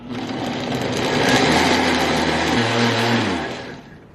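A blender whirs through roasted beets and ginger pieces for a smoothie, a loud continuous motor whine that shifts pitch partway through and then winds down at the end.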